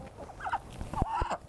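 Three backyard chickens kept alongside a duck cluck and murmur in a series of short, soft, close calls over faint yard background.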